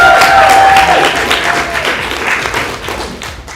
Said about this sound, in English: Could we also have one more round of applause for all the new Babel that participated?